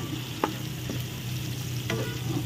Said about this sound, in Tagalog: Sa tayo ng bawang, sibuyas at kamatis.